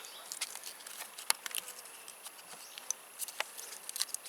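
Insects and flies buzz outdoors in the wild, faint high whining hum with scattered brief clicks and buzzes, no voices.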